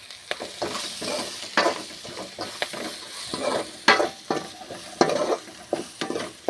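Avarakkai (broad beans) are stirred in hot oil with chili powder, giving a steady close sizzle punctuated by frequent sharp spatula scrapes against the pan, with no talking.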